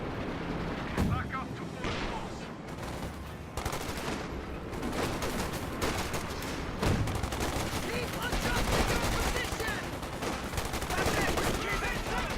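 Frag grenade blasts and gunfire in a competitive arena shooter match, a run of sharp bangs and booming explosions at irregular intervals over a dense battle din, with a commentator talking throughout.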